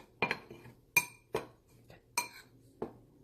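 A spoon clinks and scrapes against a bowl while kimchi pancake batter is mixed, giving about six sharp metallic taps spaced irregularly, close and fairly quiet with no talking.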